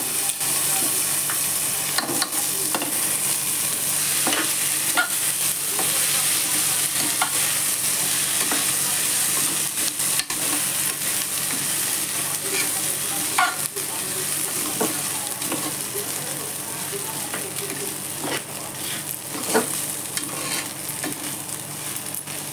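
Rice sizzling in a pan with cloves and saffron over low gas, stirred steadily by a spoon with soft scraping strokes under a constant frying hiss, close and fairly loud throughout.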